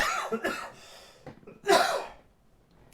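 Several sharp coughs, close and loud, with a strong burst near the middle and quieter breathy ones around it.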